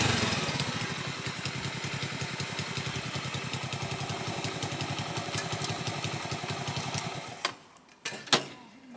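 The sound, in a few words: Honda C90 moped engine running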